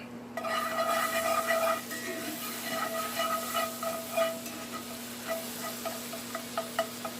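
Seasonings are stirred around in a pan over a soft frying sizzle, with light, irregular clicks and scrapes from the utensil that become sparser toward the end.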